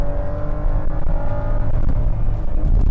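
A BMW X3 35i M drives along with a steady engine drone and road roar, a smooth sustained hum heard from inside, with no talking.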